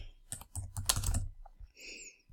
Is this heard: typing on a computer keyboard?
yes